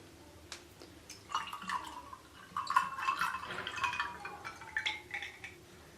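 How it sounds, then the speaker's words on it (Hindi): Cold water poured into a glass holding ice cubes and loquat sharbat, giving soft, quiet splashing and trickling with faint ice clinks in irregular bursts. "अब हम इसमें डालेंगे ठंडा पानी।"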